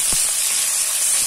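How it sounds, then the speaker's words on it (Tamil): Two onions, sliced lengthwise, sizzle in hot oil in a pan for paneer fried rice, a loud, close, continuous hissing fry with no voices. "2 வெங்காயம் கட் பண்ணி வச்சிருக்கிறோமே, நீளமா நறுக்கி வச்சிருக்கிறேன். சேர்த்துக்கிறேங்க."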